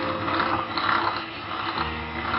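Sugar is being beaten into zebra cake batter, giving a close, steady, whirring and rattling mechanical churn that pulses slightly as it continues without talk.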